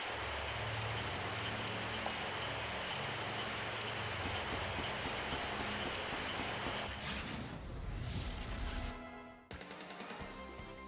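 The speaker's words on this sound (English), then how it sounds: "put a stop to this deadly rain" Steady rain from the video game Grandia HD Remaster, a dense continuous patter under a low hum, then a sudden cut and change partway through to a different ambient rain loop.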